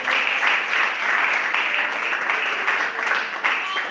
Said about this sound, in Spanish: Den un aplauso al Señor porque Él es grande.